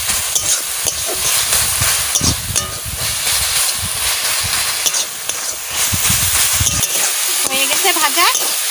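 Leafy greens with whole green chillies and salt fry loudly in a pan, a constant close hiss and sizzle with scattered crackles and scraping stir sounds, and a brief voice in the background near the end.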